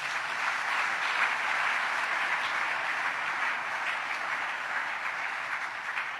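A church congregation applauds the Lord with sustained, dense clapping that stays broad and even throughout, with no single voice standing out.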